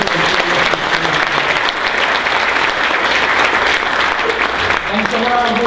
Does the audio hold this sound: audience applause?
yes